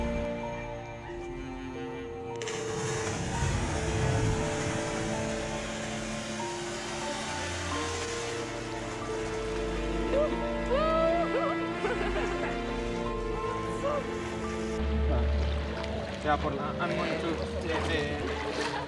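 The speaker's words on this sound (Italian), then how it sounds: "Nel fiume, piscina naturale." River water flows steadily in a natural swimming pool along the Camino de Santiago, a continuous close rushing wash heard beneath a person talking throughout.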